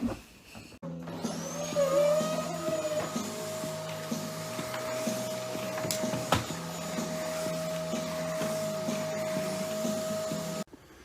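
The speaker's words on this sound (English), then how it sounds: "it's just hoovering" A vacuum cleaner hoovers a home floor in a steady loud whine and drone, shifting slightly in pitch as it moves, with a thump near the end before it cuts off.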